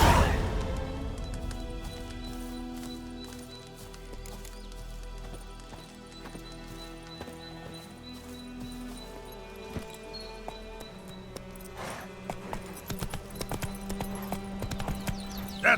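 Roach, a horse in The Witcher 3, clip-clops on hooves in a steady rhythmic gait that continues throughout, alongside low game ambience and music, with no talking.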